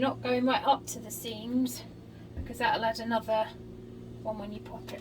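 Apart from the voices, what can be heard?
No everyday noises stand out.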